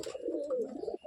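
Pigeons in a pigeon house give a steady, close low cooing that runs unbroken for about a second and then cuts off.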